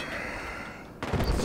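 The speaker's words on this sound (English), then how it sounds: "Still shooting at me, huh?" Gunfire in Battlefield 4, with a steady din of shots and a sharp burst of louder, closer firing near the end.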